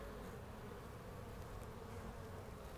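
Honeybees and drones from an opened spring hive give off a faint, continuous buzzing hum that holds steady with no voices over it.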